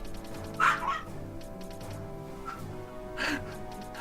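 A dog barks a few times indoors, short yipping barks under steady background music and room noise, at moderate distance.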